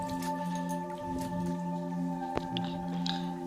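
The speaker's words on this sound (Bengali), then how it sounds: "আর এখন ভালো করে আমি 1-2 বার জল দিয়ে ধুয়ে নেব" Thinly sliced potatoes are rinsed in a bowl of water, with soft sloshing and dripping sounds over a steady background hum.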